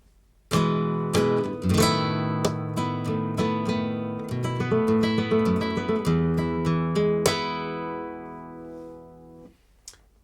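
A solo acoustic guitar plays a lively flamenco alegrías phrase of strummed chords and picked notes, close and clear, with no talking.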